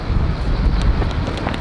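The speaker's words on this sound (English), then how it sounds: "It's about 30 gusts up to 40 miles an hour" Strong, gusty outdoor wind of about 30 mph gusting to 40 buffets the microphone through a windscreen, a steady loud low roar with slight surges throughout and no voices.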